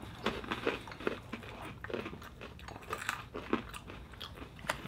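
Crunchy cheddar crunch almond ball snack being bitten and chewed up close, a steady run of sharp crisp crunches repeating with no talking.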